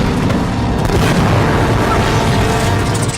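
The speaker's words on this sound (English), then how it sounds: "What the hell was that? An anti-aircraft fire?" Anti-aircraft fire bursting around a plane in the video game Uncharted: Drake's Fortune, a loud, dense, continuous rumble of explosions and booms that fills the whole moment.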